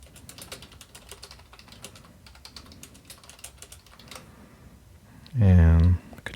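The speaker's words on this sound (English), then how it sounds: "just place your cursor wherever you want to go and start typing there" Steady tapping on a computer keyboard while editing text in a Linux terminal editor, quick irregular keystrokes at close range, ending with a brief loud burst of another sound.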